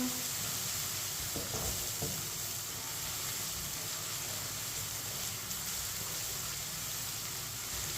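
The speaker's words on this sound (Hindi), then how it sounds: "अदरक और लहसुन को 2 मिनट पकाने से इसका कच्चापन खत्म हो जाएगा।" Ginger and garlic frying in a pan for a masoor dal recipe, giving a soft, continuous sizzle with a steady hiss and a few faint stirring scrapes, fairly quiet and with no talk.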